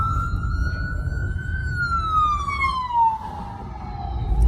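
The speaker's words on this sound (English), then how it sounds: "Here come an ambulance, and I knew this was gonna happen every time." An ambulance siren wails, sweeping slowly downward in pitch as it passes nearby a parked car, over low road rumble.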